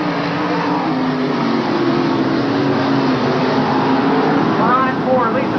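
Dirt modified race cars at Afton Raceway, with engines droning and revving in a pack beneath loud race commentary.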